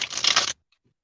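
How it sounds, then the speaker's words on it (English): Tarot cards shuffled by hand, a single dense riffling burst lasting about half a second, close and fairly loud, then near silence with only a faint tap. "Let's see if I can shuffle on my console."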